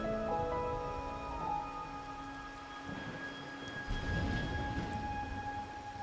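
Rain falls steadily in the video game Wuthering Waves while low thunder rumbles twice, under a sustained musical tone, moderately faint overall.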